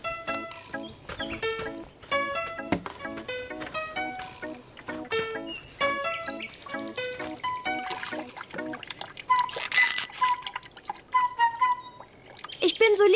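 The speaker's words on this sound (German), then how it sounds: "Ich bin so lieb, dass ich sogar Blumen helfe, weil ich sie gieße." A cartoon character waters a small flower, and a soft water trickle comes in toward the end, partly masked by a light, bouncy children's cartoon music track.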